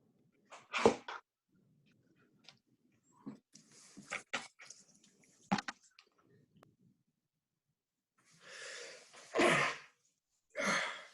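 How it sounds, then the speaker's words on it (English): One sharp sneeze bursts out near the start over an online Board of Finance budget meeting. Scattered faint clicks, breaths and rustles follow, with a couple of breathy noises near the end. "God bless you, whoever sneezed."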